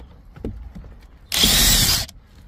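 A powered driver briefly whirs to back out an interior trim screw on a Ford Focus Mk4 Vignale, one loud burst of under a second after quiet handling noises.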